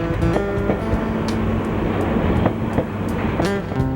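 A passenger train heading north through Australia rumbles steadily, with rhythmic clacks from the wheels passing over rail joints and a broad, even roar of carriages in motion.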